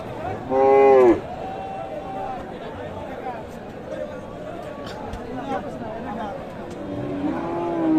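Cattle at a crowded village cattle market in Tangail, with one loud, close moo early on and fainter lowing later, under ongoing voices and general crowd chatter.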